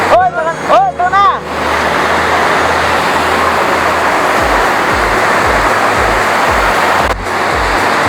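Usboy Falls in San Jose del Monte, Bulacan, a steady loud wash of falling water filling the scene, with a brief burst of voices and chirpy sounds at the start.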